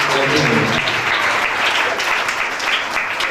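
Loud, dense applause from a large audience at a Christmas program in a Catholic church in Faisal Town, Lahore, continuous clapping throughout with a few voices mixed in.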